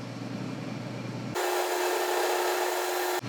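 A machine tool cutting a small flat on a stainless steel bolt, heard as a steady, even grinding hum that starts abruptly after a quieter stretch and runs continuously before stopping, close and alone.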